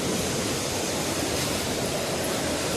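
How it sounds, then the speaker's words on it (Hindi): A mountain stream in the Kedarnath valley rushes steadily, a loud, dense, unbroken roar of flowing water heard close up with no pauses. "ये यहाँ गधेरे बह रहे।"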